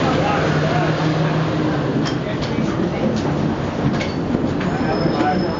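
Trains roll through Grand Central station with a steady rumble and scattered metallic clicks and squeals, while a person talks over the noise.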